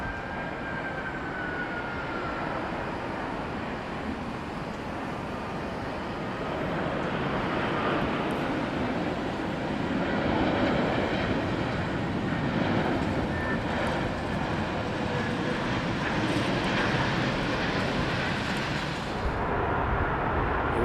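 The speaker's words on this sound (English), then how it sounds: "British Airways, it's the king of the skies, it's the A380 coming in from Miami" British Airways Airbus A380 airliner coming in to land at Heathrow, a loud sustained broadband engine roar that swells slightly as it passes overhead and holds steady throughout.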